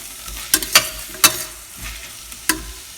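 Sautéing and stirring in a pan while making Andhra-style pappu (dal curry): a few sharp scrapes and clinks of a spoon against the pan, spaced out over a soft, steady frying sizzle, close by with no talk.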